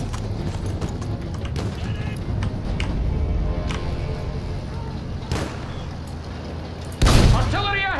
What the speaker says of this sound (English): Artillery ahead!